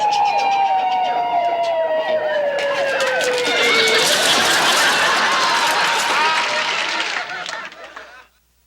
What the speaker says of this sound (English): it was an ambulance